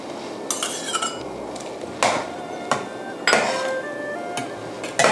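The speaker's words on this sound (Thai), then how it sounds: "คนให้เข้ากันค่ะ" A metal spoon scrapes and clinks against a pot of Chinese herbal pork rib and bamboo fungus soup, with several sharp knocks and clatters scattered among softer stirring, close by and with no talking.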